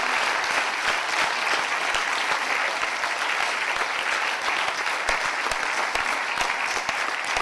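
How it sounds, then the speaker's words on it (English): A hall audience applauds steadily, dense even clapping at moderate level that carries on without a break for several seconds. "Can we give Monday another round of applause, please?"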